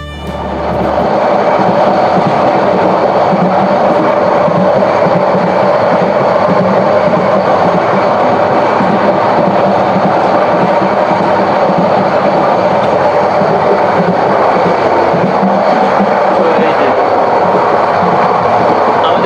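The Subarna Express running between Chattogram and Dhaka, heard as a loud, continuous rumble and rattle of carriages on the rails, steady and unbroken with no voices.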